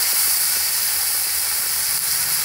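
Onion paste drops into hot oil spiced with cloves, cinnamon, cardamom and bay leaves, setting off a loud, steady, close sizzle that hisses without pause for the whole moment, with no voices.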